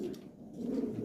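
Pigeons coo in a low, throaty, steady murmur, close and continuous through a brief moment with no talk.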